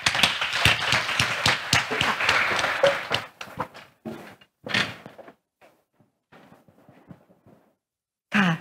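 Applause from an audience in a hall at the Thailand Science Park during a plant-based healthy living event, several seconds of dense clapping that thins into a few scattered claps, then a brief burst at the end.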